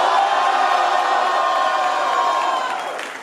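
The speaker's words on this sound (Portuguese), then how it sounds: "Barulho para cima de Ducais" A crowd at a rap battle cheers and whoops loudly, a dense roar of shouting voices sustained throughout and fading slightly at the end.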